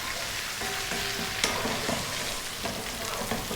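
Chopped onion and garlic frying in a pan while stirred often, a dense continuous sizzle with scraping strokes and bright spatters, loud and close with no voices.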